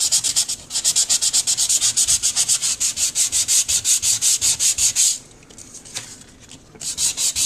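Regular sandpaper rubbed hard across scrapbook paper in quick, steady back-and-forth strokes, a close rasping scratch for about five seconds, then a few lighter, scattered strokes.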